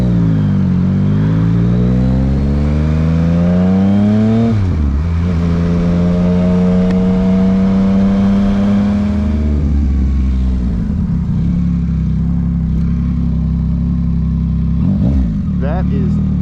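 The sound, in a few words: 2023 Yamaha MT-09 motorcycle accelerating in power mode 1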